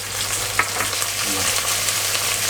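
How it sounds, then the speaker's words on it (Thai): Yardlong beans and pork belly stir-fry in a hot pan, a loud, dense sizzle with brief spatula clatters near the start, up close and without speech. "ฉะนั้นเราก็ผัดแค่พอให้มันสุกๆนิดนึง กรอบกรอบ"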